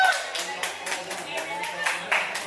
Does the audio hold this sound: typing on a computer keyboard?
no